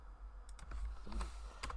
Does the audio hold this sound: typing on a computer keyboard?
yes